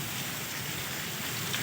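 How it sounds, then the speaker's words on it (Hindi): Heavy, steady storm rain falls during the last hard downpour of summer, a dense continuous hiss of drops close by with no break and no voices. "बारिश का माहौल।"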